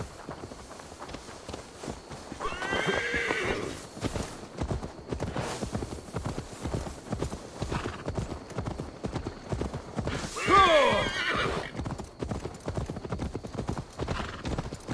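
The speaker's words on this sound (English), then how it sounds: "Now to deliver Magni his horse." Horse hooves clip-clop steadily in Assassin's Creed Valhalla as a horse is ridden along, a continuous rhythmic trot with occasional whinnies, mixed with game ambience.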